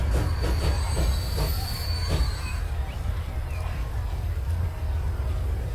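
Brand-new train in Transport Fever rolling along the rails with steady low rumble, high wheel squeals and faint clicking, loud and continuous throughout.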